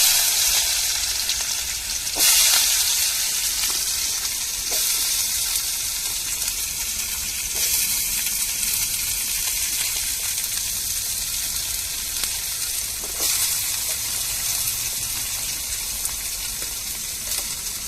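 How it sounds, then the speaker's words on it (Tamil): Mustard seeds and finely chopped onions fry in hot oil for a bitter gourd stir-fry, making a continuous bright sizzle with several sharp crackling bursts spaced through the stretch, close and loud with no talking. "எண்ணெய் சூடேறிட்டு இப்போ கடுகு சேர்த்துக்கிடுவோம் அதுக்கப்புறம் நம்ம வெங்காயம் சேர்த்துக்கிடுவோம்"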